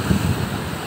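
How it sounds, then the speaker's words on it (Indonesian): Ocean waves rush against the shore on the west coast of Lampung, a loud continuous surf roar buffeted by wind noise on the microphone. "waktu cuaca terang pun ombak lautnya seperti ini"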